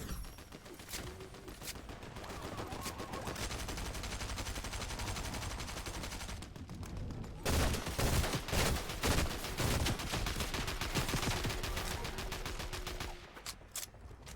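Fortnite gunfire crackling in rapid bursts, loud repeated shots and automatic fire running almost continuously, with a heavier volley in the second half.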